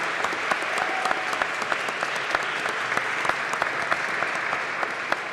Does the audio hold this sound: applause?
yes